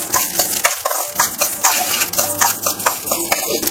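Mustard seeds roast in a pan, a dense continuous crackle and sizzle with scraping stirs and a few small pops throughout.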